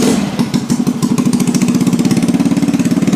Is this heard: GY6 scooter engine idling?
yes